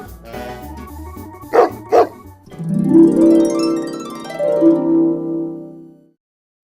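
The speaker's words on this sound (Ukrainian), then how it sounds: "Зустрічайте нашу собачку" Two quick barks ring out, followed by a long, drawn-out howl or whine that wavers in pitch, close and fairly loud.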